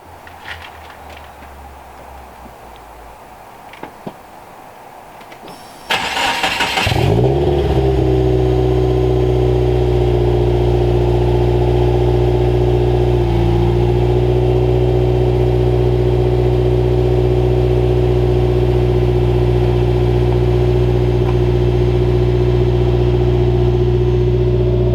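A Subaru WRX engine with a new exhaust cranks briefly, then fires and settles into a loud, steady, deep-toned idle that continues throughout.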